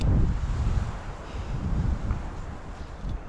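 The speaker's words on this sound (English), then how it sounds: "And the wind's up, and I can't see my fly." Wind blows at a mountain river in the Eastern Sierra, rumbling against the microphone as a steady low buffeting with the water rushing beneath, and no voices.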